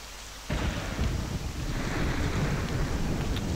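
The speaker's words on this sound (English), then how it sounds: "The rain seems to be getting worse." Heavy rain pours steadily in a stormy scene from The Sacred Blacksmith video game, a dense continuous hiss that swells suddenly after a quieter opening, with low thunder rumbling beneath it throughout.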